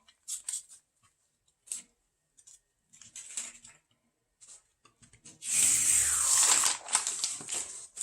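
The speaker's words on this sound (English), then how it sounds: "you pull this tape off and you see" Masking tape is peeled off a painted artwork, a few quiet ticks and taps followed by a longer, louder tearing rip near the end.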